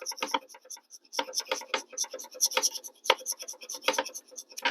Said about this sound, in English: Use the back side of your knife, use one of the edges, and you'll still get shavings off